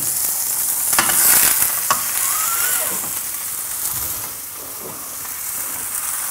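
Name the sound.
chicken breast frying in a pan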